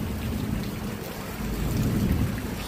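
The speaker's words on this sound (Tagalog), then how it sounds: "Thank you, Lord, for this rain." Steady rain falling with wind gusting through it, a loud continuous wash of drops and rushing air swelling slightly toward the end, with no voices.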